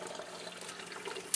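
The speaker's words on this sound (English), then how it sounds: "That's the water I just poured off of it after running it one more time for a couple minutes." Water pours steadily off a cleaned, corroded motorcycle brake caliper, a soft continuous splashing trickle that is fairly faint and close, with no talk.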